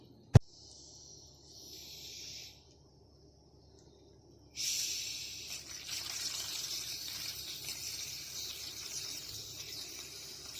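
Water poured out of a plastic drum of curing olives, a faint trickle that breaks into a steadier splashing gush partway through, after an initial sharp knock.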